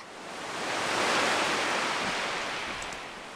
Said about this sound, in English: That's the sound of the waves. You always hear that on the shore.